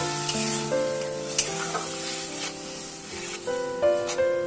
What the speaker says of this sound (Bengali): জল দিয়ে এই মশলাটা কষাতে থাকবো।